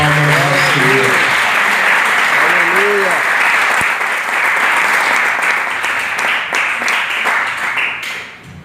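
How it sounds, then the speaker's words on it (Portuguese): A church congregation breaks into loud, sustained applause that gradually thins toward the end, with a voice calling out over the clapping early on. "dá uma salva de palmas ao Senhor"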